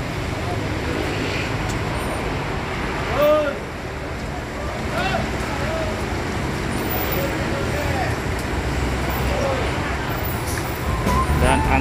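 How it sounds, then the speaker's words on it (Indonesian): Agramas HD03 Asofa coach bus on a K410B chassis departing for Purwantoro, a steady engine and road rumble swelling slightly as it pulls away, mixed with ambient traffic noise and some talk nearby. "langsung kita sambut dengan keberangkatan dari Agramas HD03 Asofa dengan tujuan Purwantoro"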